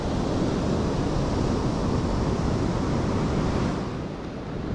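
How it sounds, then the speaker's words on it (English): Rough, churning ocean surf breaking on a shore, a continuous loud wash of noise with wind buffeting the microphone, easing slightly near the end, with no talking. "The ocean is a little bit angry,"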